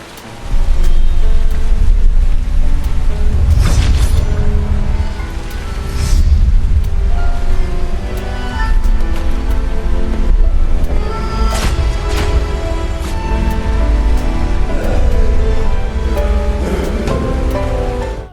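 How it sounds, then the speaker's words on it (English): Heavy rain pours down at night in a dark street for a film scene, a steady, dense wash of falling water with deep rumbling undertones that stays loud and unbroken throughout. "heavy rain is falling"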